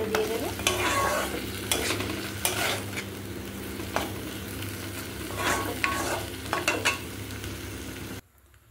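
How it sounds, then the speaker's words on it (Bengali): Spice masala frying in a pan while being stirred, a continuous sizzle broken by repeated scraping strokes of a spatula at an uneven rhythm, close and fairly loud, ending abruptly in near silence. "আলু তুলে দিয়ে মশলাটাকে কষাতে শুরু করে দেবো।"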